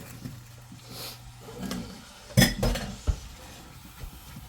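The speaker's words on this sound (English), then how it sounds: "So our butter's going. You can see that. Just dropping our apples right in." Apples dropped into a pan of melting butter for an oven-baked Dutch apple pancake, giving a couple of close clattering knocks and a soft sizzle against the metal pan, with no talking.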